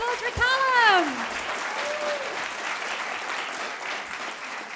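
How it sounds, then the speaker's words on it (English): Audience applause for a performer named Callum, a steady wash of clapping heard alone after a brief whooping cheer at the start, moderately loud and even. "please give a huge round of applause for Callum"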